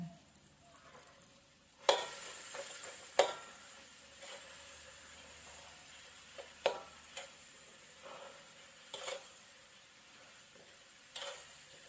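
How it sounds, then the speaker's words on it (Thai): Meat filling for wontons is stir-fried in a pan, a soft, low sizzle broken by about eight sharp scraping stirs and knocks of a utensil at irregular intervals, close by. "ผัดให้เนื้อเข้ากันดีแล้วชิมดูค่ะ"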